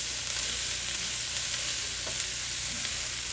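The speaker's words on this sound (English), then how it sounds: "I'll cover our tofu and let it cook for a few more minutes" Tofu and vegetables stir-frying in a pan give a loud, continuous close sizzle with faint stirring ticks.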